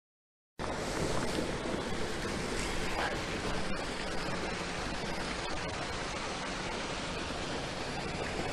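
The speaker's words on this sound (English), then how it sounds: "The babbling brook" A babbling brook near East Linton, on the walk to Hailes Castle, gives a steady broad rush of running water, close and continuous for several seconds after an abrupt start.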